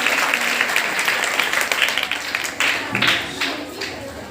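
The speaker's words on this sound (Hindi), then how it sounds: "बच्चों तालियां जरूर बजाएं। तालियां बजती रहें।" Students applaud at a school farewell ceremony, a lively mix of many hands clapping with some sharper individual claps standing out, and a bit of crowd murmur underneath.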